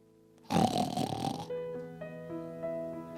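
A voice does a loud, rattling snore imitation for about a second, then gives way to steady tonal background music.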